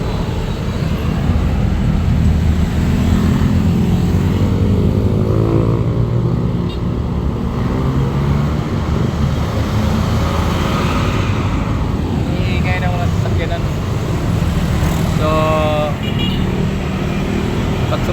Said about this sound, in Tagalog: So ang ingay talaga guys. Highway kasi ito.